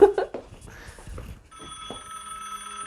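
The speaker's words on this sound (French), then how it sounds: "Il y a le téléphone qui sonne." Telephone ringing indoors, a steady electronic ring tone that starts after a moment of quiet handling noise and continues alone.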